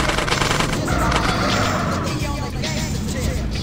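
Rapid bursts of gunfire in GTA San Andreas crackle on and off alongside vehicle noise, with someone talking over the shooting.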